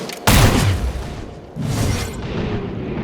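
Squad gunfire during a breach in the tactical game XCOM Chimera Squad: a sudden loud boom opens, then a second burst of fire follows after a short pause, leaving a rumbling tail with no speech.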